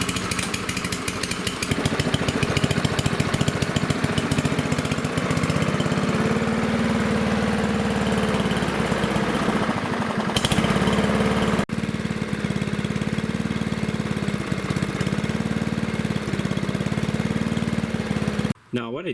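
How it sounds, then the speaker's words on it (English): An MTD lawnmower's Powermore 140cc overhead valve engine idles low in a steady, loud, rough drone, close by, with a brief dip near the end and no talk over it. "what I'm going to do at this point is start it up so you can see how low it's revving"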